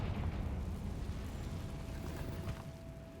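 A Confringo fire spell explosion in the Hogwarts Legacy video game, a loud rumbling eruption with low booming body that rolls on and slowly fades, with no voices.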